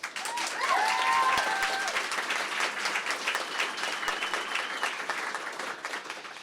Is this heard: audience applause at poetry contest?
yes